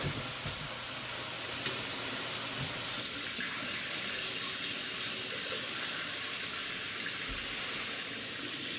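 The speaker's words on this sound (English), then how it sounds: "now we're going to drain the grease from the pan" Hot grease being drained from a frying pan, a steady watery pour with hiss and sizzle that swells partway through and continues evenly, close and fairly loud, without talking.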